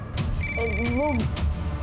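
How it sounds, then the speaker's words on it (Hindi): A phone ringtone plays a short, bright melodic chime close by, with a sustained tone and a rising and falling tune over a low background murmur. "कब से फोन बज रहा है"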